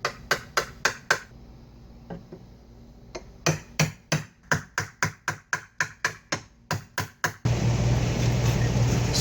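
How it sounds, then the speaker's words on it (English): Sharp hand-struck taps on a wood chisel, cutting for a granite grill side table, in a steady series of close, loud knocks with brief pauses, ending in a burst of broadband noise. "I'm going to use a wood chisel for this back one"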